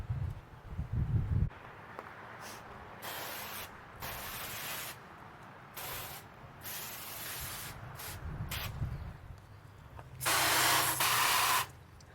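Short bursts of water spray rinse trim restorer off a car's trim, hissing in several separate blasts of a second or two each, close and fairly loud, with a longer sustained spray near the end.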